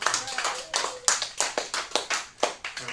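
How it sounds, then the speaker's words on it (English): Comedy club audience claps for a comedian at an open mic night, a modest, uneven patter of hands with distinct individual claps, fairly close and steady throughout. "applause for William Rock the House Lewis."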